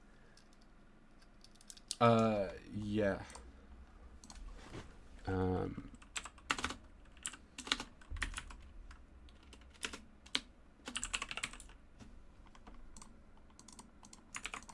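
Rapid clicking of computer keys in irregular bursts, close up, with a short stretch of speech early on and a brief spoken word.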